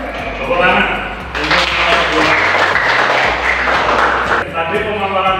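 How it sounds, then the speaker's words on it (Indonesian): Classroom applause for student group presentations during a teaching-practice lesson: a burst of clapping starts after about a second, holds for roughly three seconds and then eases off, mixed with voices and a low hum. "beri tepuk tangan"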